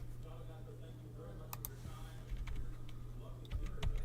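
Light clicks come from typing on a computer keyboard that has a broken Z key, sparse and faint over a low steady hum.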